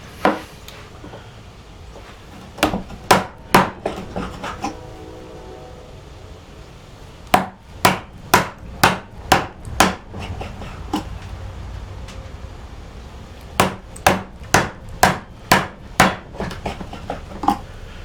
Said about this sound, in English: 5 minutes chopping a mortise